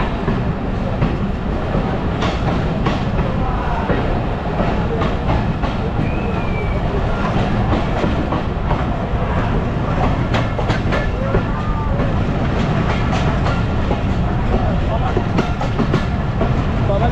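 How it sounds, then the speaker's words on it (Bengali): A train pulls out of Chatmohar railway station with a loud, continuous rumble and rhythmic wheel clatter on the rails, a faint squeal rising briefly, and voices murmuring under the noise. "আমাদের ট্রেন ছেড়ে যাচ্ছে জনপ্রিয় একটি স্টেশন, চাটমোহর রেলওয়ে স্টেশন"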